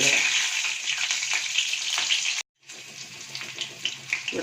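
Chili fries in hot oil with a close, bright, crackling sizzle. The sizzle cuts out for a moment partway through, then resumes with small pops and spatters, and there is no talking.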